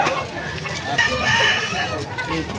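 A Talisay gamefowl rooster crows loudly and close at a busy market tiangge in Malolos, Bulacan, one drawn-out call over steady crowd chatter and background noise.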